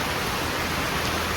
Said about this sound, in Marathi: भरपूर पाऊस चालू आहे बघा